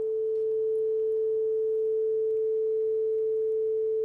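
A steady pure sine tone holds at one constant pitch, moderately loud and alone, part of a standing-wave demonstration in a room.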